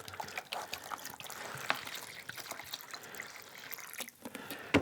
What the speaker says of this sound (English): all you do to make this old aged wood effect is pour some vinegar in a container